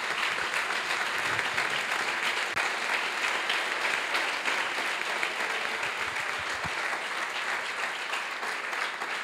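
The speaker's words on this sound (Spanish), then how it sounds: "merece un gran aplauso para la compañera y para todos los compañeros del MST" Sustained audience applause at a political panel held alongside Brazil's MST landless workers' movement, a dense steady wash of many hands clapping continuously at even loudness throughout.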